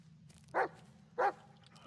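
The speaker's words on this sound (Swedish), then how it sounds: "Där är hunden." A dog in the horror video game Blair Witch barks twice, two short, evenly spaced barks over a quiet low background hum.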